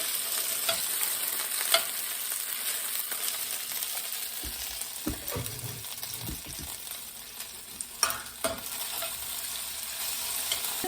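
Gluten-free gnocchi frying in a pan, a constant bright sizzle with occasional scraping and clattering as the pieces are stirred and tossed, close up with no talking.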